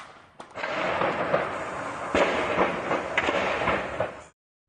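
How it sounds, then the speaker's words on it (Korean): Continuous rumbling blasts and crackling bursts come from a 20-storey apartment block engulfed in fire after a Su-34 fighter jet crash in Yeysk, loud and sustained with a few sharper pops, no talk. "불길에 휩싸인 아파트에선 폭발이 계속 이어졌습니다."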